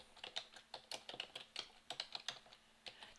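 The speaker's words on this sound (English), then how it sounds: "Now I type in the right box and then I put the cursor in the left box" Quick, light clicks of fingers typing on a computer keyboard, close and fairly quiet, coming in uneven bursts with short pauses.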